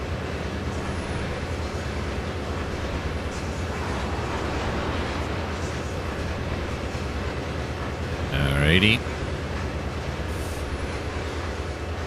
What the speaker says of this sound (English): Oh my gosh, it's a train.